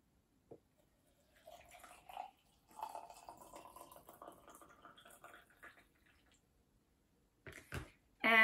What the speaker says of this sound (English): Pour the boiling water